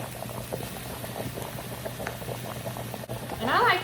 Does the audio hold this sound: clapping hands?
no